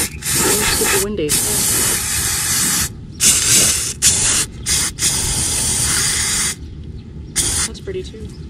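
Repeated bursts of aerosol spray hiss loudly in long and short blasts separated by brief pauses, with a voice briefly heard early on.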